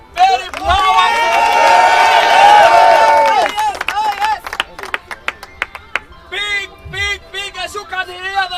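Large crowd celebrating outside a house, with loud sustained cheering, ululation and voices rising together, then breaking into scattered shouts and bursts of clapping, close and dense.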